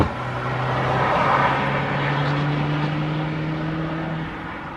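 A Volkswagen GTI engine with 200,000 miles hums steadily and builds in pitch as it pulls away in second gear, a smooth droning tone heard from inside the car with no talking.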